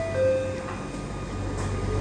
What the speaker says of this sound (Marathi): मेट्रो चालू झाली